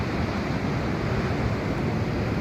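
Atlantic Ocean surf and wind at Land's End in Cornwall, a steady, loud broadband roar of breaking waves and gusting air that holds evenly throughout with no voices.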